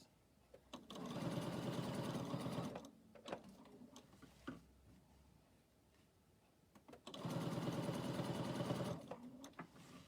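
A sewing machine runs in two steady bursts of fast stitching, each a few seconds long, with quiet pauses and small handling clicks between them, close and clear.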